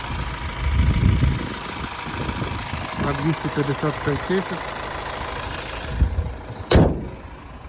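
A 2016 Mazda CX-5 with a 2.2 diesel engine and automatic gearbox idles with a steady, low clatter beneath someone talking, followed by a sharp brief knock near the end.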